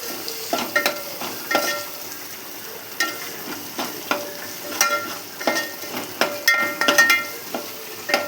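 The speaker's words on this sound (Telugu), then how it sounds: "కొంచెం పచ్చి వాసన పోయేదాకా వేయించుకోవాలి" Spices fry in a pan over low heat while a spoon scrapes and stirs, with repeated sharp metallic strokes over a soft background sizzle.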